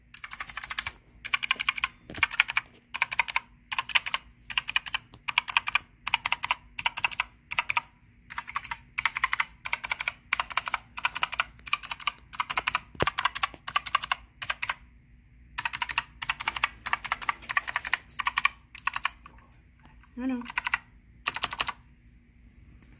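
Rapid bursts of keystrokes on a Dierya DK618 60% mechanical keyboard, close and crisp, typed in quick runs separated by short pauses, with a steady low hum underneath.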